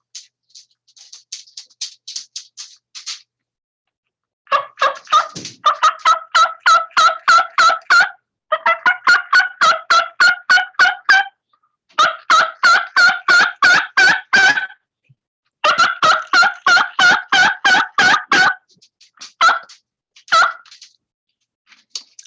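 Hunter's turkey call demonstration imitating a turkey: loud, close, rapid runs of yelps and clucks in repeated bursts with short pauses between series, alone with no talking.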